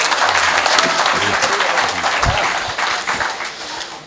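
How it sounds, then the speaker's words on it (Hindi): A large audience at a patriotic Hindi speech event claps loudly and steadily, a dense wash of applause that fades slightly toward the end. "ताली होनी चाहिए था।"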